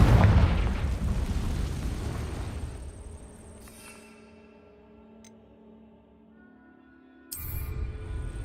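A Confringo spell explosion in Hogwarts Legacy: a loud booming blast that fades into a long tonal ring-out over a quiet stretch, then a sudden bright chime and renewed noise near the end.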